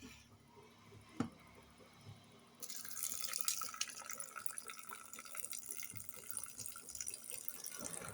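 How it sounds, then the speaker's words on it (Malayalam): Water pours steadily from a tap or vessel onto chopped vegetables in a pot for idli sambar, a continuous splashing rush starting partway through after a single sharp click and quiet kitchen background. "അപ്പോൾ നമുക്ക് കുറച്ച് വെള്ളം ഒഴിക്കാം."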